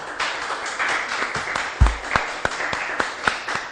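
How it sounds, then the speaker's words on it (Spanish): Audience applause at a welcome ceremony for a history and geography academy, a modest crowd clapping with distinct individual claps and a thump partway through, fairly close and steady. "Muchas aplausos"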